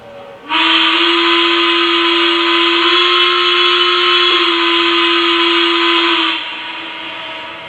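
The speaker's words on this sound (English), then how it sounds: "So I'm going to go ahead and hit the whistle." A steady, shrill steam whistle from a Lionel LEGACY 2-6-6-2 Mallet model locomotive blows continuously for about six seconds, loud and close, then cuts off leaving a faint hiss.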